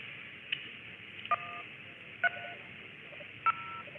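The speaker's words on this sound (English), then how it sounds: "Please stand by for net tones." Amateur radio repeater net tones come through as a quick blip followed by three distinct two-tone beeps, spaced about a second apart and sounding clean and clear over a steady background hiss.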